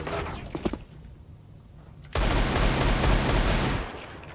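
Burst of automatic gunfire in the Counter-Strike video game, a loud sustained volley after a quieter stretch of faint sounds, with no talk.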